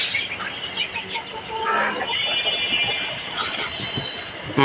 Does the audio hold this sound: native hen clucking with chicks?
yes